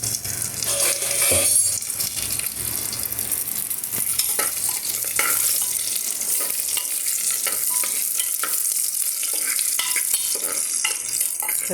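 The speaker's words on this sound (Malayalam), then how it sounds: "നമുക്ക് ഈ അണ്ടിപ്പരിപ്പും ഡേറ്റ്സും ഒന്ന് ഇതിലിട്ട് ഒന്ന് വറുത്തെടുക്കാം" Steady frying sizzle of cashews and dates in a pan with intermittent scraping and stirring clicks, close and continuous, no voices.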